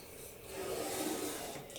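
A marker rubs briefly across the side of a plastic container being fitted out as a five-gallon arboreal tarantula enclosure, a soft close scraping stroke lasting about a second, with no talking.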